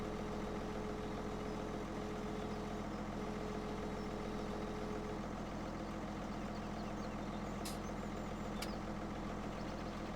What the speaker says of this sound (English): looks like somebody had to get some fuel for the tractor there